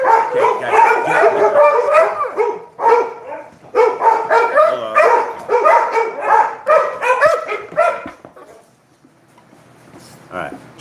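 Several dogs bark indoors, loud and close, in repeated volleys of barks and yips with brief gaps, fading to quiet near the end while someone speaks briefly.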